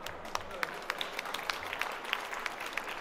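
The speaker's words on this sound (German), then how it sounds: "Großen Applaus." Thin, scattered applause from an audience at an agricultural marketing award ceremony, individual claps popping out over low room noise for a few seconds.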